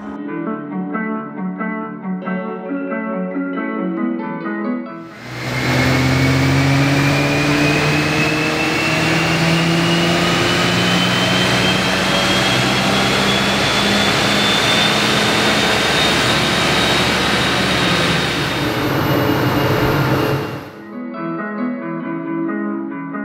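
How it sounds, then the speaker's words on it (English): A stock VW Golf R Mk7 estate engine runs on a dyno, roaring loudly for about fifteen seconds and rising steadily in pitch as it climbs through the revs, with music playing before and after the run. "So we're gonna go on the dyno and show you what standard power it's making."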